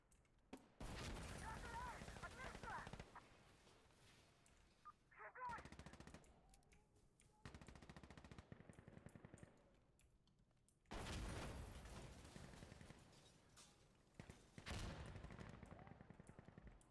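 Gunfire in the video game Arc Raiders: several loud bursts of rapid automatic shots separated by quieter gaps and single cracks, with a voice talking over parts of it.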